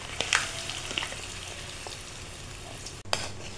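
Coconut milk with chicken and malunggay bubbling in a pan: a steady soft sizzle and simmer with scattered small pops and light stirring clatter, close and fairly quiet.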